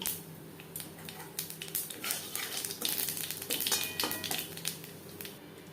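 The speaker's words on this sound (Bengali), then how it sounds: "মাছ ভেজে নেওয়া তেলে ফোড়নে দিয়ে দেব কালো জিরে" Black cumin seeds sizzle in hot oil left over from frying fish, a steady close crackle and spatter with scattered clinks of a utensil against the pan.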